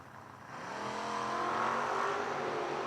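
A 1991 Chevy S10 launches and accelerates hard at a footbrake drag race, its engine note climbing in a rising roar that grows louder across the short stretch, mid-distance, with no talk over it.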